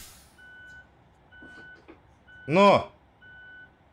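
Reversing beeps from a Mercedes-Benz Urban eTruck in a Euro Truck Simulator 2 mod: four evenly spaced, clear electronic beeps over a low engine hum, with one loud spoken exclamation briefly interrupting between them.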